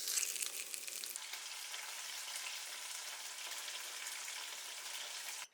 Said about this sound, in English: Slice the spam and pan fry in a frying pan.